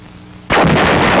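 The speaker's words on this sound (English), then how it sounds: "A field artillery battery brings forward an 8-inch gun on 11th September to fire point blank at the massive walls surrounding the fortress where Nazi paratroop General Hermann Bernhar" An 8-inch field artillery gun fires point blank at a fortress wall in 1944 wartime France, a single sudden loud blast that bursts out of a quiet background and rolls on as a sustained booming roar.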